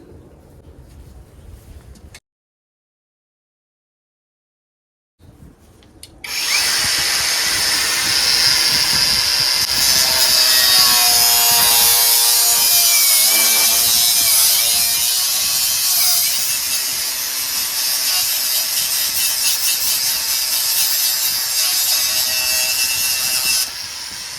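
A power saw cuts loudly and continuously through part of a Vevor motorcycle storage shed, with a rough, steady grinding after a short pause of silence.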